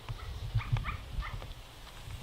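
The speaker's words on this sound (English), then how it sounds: "dogs barking in the background" Several dogs bark intermittently at a distance on a farm, short sharp yaps over quiet outdoor ambience.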